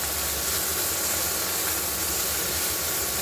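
Potatoes and onions fry in a pan with a steady, loud sizzling hiss that holds evenly throughout, with no talking.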